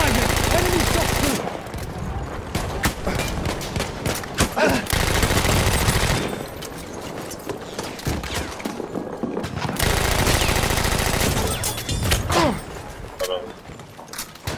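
Gunfire in a PlayStation 4 video game, sustained bursts of rapid shooting that come and go in long loud stretches with thuds mixed in, while voices talk over the action.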